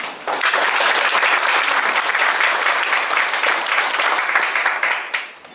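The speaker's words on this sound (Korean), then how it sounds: "우리 의원 여러분의 힘찬 박수 부탁드립니다" Sustained applause from a seminar audience at a financial research institute gathering, dense steady clapping filling the room for about five seconds before tapering off.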